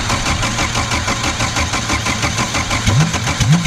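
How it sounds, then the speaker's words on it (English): A Toyota MR2 with a 7AGE engine being started for the first time while someone works the throttle. The engine makes a loud, uneven, rumbling sputter with rhythmic knocking pulses that swell toward the end. "She's going to try starting it, and I'm going to try working the throttle."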